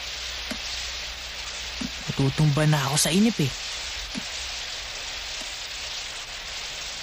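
Steady rain hisses continuously throughout, with a person speaking briefly in Tagalog midway over the downpour.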